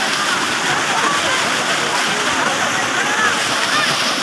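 A newly installed motor pump pours out a strong, steady stream of water, a dense splashing rush heard close and unbroken throughout.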